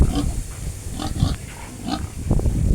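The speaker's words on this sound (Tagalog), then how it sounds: "kasya na yun sa kulungan natin mga biik" Piglets grunting and oinking in a pen at close range, several short snuffling calls spread through a steady farmyard background.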